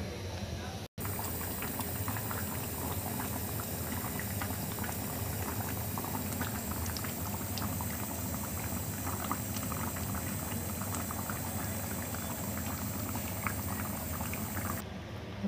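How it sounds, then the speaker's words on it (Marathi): Black pea amti curry boils in a pot on a medium flame, giving a dense, steady bubbling and popping that continues evenly and close by for the whole stretch, with only one very brief dropout near the start. "आपण मध्यम आचेवरती आमटी उकळत ठेवली होती"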